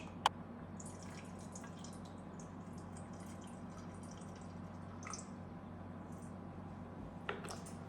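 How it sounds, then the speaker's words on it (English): Milk trickling slowly into a cake batter in a bowl, with faint, soft dripping splashes over a steady low room hum. "Into this, I'm gonna put 60 grams of milk."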